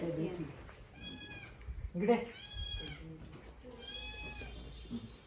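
A cat meows several times in drawn-out, rising cries, close by, with a person speaking in between.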